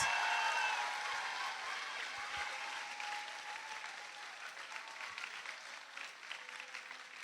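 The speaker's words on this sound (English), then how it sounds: "Let's give another round of applause for Presley and our flag bearers." Steady applause from a school showcase audience, broad and sustained, tapering slightly over several seconds with no one speaking.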